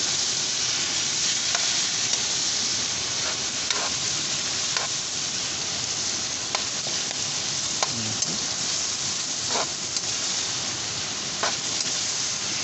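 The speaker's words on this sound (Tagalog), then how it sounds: "Ngayon ilagay natin yung kamatis. Tapos mikos-mikos." Chopped tomatoes are stir-fried and tossed in a pan for ginisang upo with pork, a Filipino stir-fry. A steady crackling sizzle is broken by occasional soft scrapes and clinks of stirring, with no voices.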